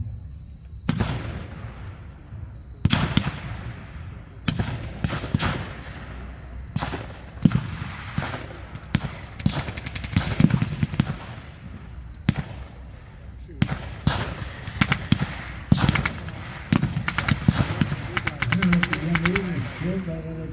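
Loud explosions and sharp bursts of gunfire from a WWII battle reenactment at an airfield, irregular cracks and booms spread over about twenty seconds, some in quick clusters, with a voice talking over parts of it.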